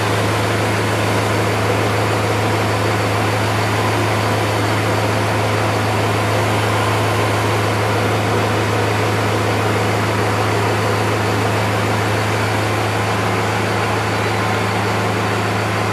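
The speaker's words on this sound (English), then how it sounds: "Now we'll turn the compressor on." The air conditioning compressor of a Dodge Power Wagon with a Cummins engine runs continuously, a loud, even mechanical hum and airy whoosh with a steady low drone, no voices.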